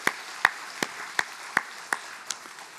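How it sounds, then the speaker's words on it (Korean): A small church congregation claps in a slow, steady rhythm during a Sunday worship service, about eight distinct claps spaced roughly evenly, fairly quiet and with no talking over them. "하나님께 영광의 박수를 한번 돌리겠습니다"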